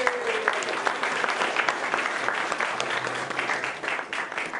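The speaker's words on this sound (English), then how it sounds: "So let's give them a big round of applause." A lecture audience claps continuously in a hall, with a full, steady crowd applause that holds for several seconds before tapering slightly.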